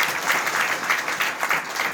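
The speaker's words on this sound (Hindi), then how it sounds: "तालियों के द्वारा स्वागत करें परमेश्वर।" Congregation clapping during a Sunday church service, a steady rolling wave of applause at moderate loudness with no voices on top.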